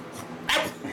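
An old dog gives a single short, close bark after a brief stretch of low background noise.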